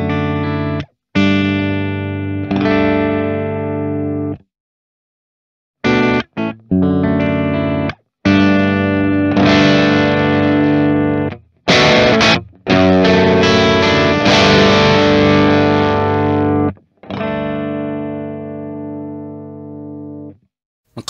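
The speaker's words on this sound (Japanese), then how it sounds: "かなりナチュラルなオーバードライブですね" An electric guitar played through an Origin Effects DCX Boost pedal in overdrive mode gives a natural, mildly saturated tone. Ringing chords and single notes are struck in phrases separated by short pauses, with no talking.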